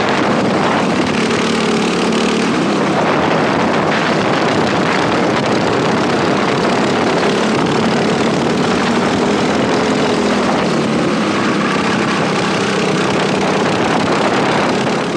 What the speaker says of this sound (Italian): Sembra che il motore però faccia un po' fatica.